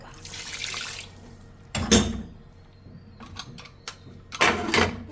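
Water splashes in short bursts into a pan, first a rushing pour, then a louder gush and a few quick splashes, with brief clinks between.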